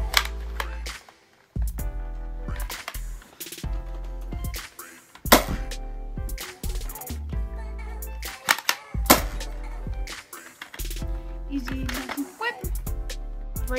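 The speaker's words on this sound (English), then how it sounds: "Let's shoot some rival rounds now" A Nerf Rival blaster fires Rival foam rounds in a series of sharp, close pops and clacks in irregular bursts, with talking and short pauses between them.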